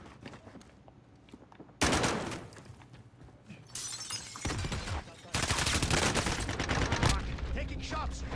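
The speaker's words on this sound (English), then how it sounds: "Taking shots." Video game gunfire in bursts, loud cracking volleys mixed with shattering and impact noises, arriving in several dense stretches with brief quieter gaps between them.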